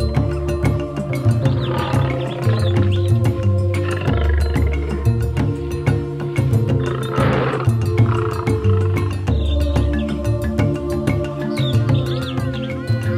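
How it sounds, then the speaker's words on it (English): A lion roars loudly and steadily, close up, over a dense, constant bed of other wild-animal calls and chirps that continues throughout. "The lion is the second largest cat in the world."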